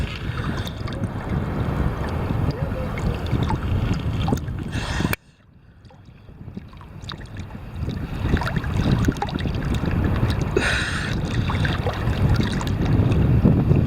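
A motorboat checking lobster traps at sea, heard as a steady engine drone mixed with wind buffeting and water wash. It is loud and close, with a brief dip before the noise builds back up.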